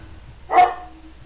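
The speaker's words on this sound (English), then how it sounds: "Snoopy, please stop barking" A single short dog bark rings out in the video game Oblivion, close and sharp over a quiet background.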